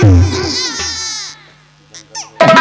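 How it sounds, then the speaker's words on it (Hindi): A baby's cry plays as a sound effect in a Hindi nautanki stage drama, loud and wailing at first, then fading into faint sounds before a burst of stage noise. "कोई मासूम बच्चा रो रहा है।"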